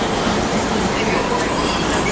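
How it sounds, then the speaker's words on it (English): A two-story commuter train passes nearby near Candlestick Park in San Francisco, producing a steady, loud rumble and roar with no distinct breaks. "Two-story train similar to the Metrolink in Los Angeles."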